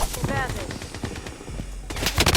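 Rapid bursts of automatic gunfire in the shooter video game Blood Strike, sharp repeated shots in two clusters with game sounds between them.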